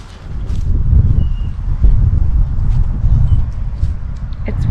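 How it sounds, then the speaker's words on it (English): Low, rumbling wind buffets a GoPro microphone, a constant roaring blast with faint rustles and a distant chirp above it, at Memorial Park Cemetery in Tampa. "It's really windy here, so I just know that's picking up in the GoPro."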